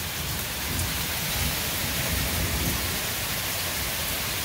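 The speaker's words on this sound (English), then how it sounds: "this is the first rain we've had in a month" Steady heavy rain falls close by as a dense, unbroken hiss with pattering drops throughout, loud and without voices.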